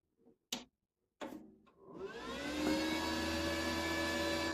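A few clicks and knocks come as a welding machine is switched on, then a cooling fan hum swells up and settles into a steady, close whir with faint tonal whine.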